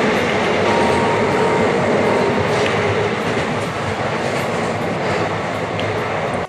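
Inside a moving passenger train at night on a cold, empty carriage: a steady loud rumble of wheels and carriage noise with faint rhythmic clatter throughout and no voices.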